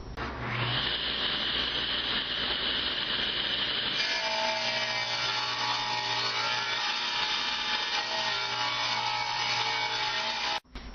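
A table saw rips wood to width, its high steady whine holding loud and continuous as the blade cuts through the board, then dropping away abruptly just before the end.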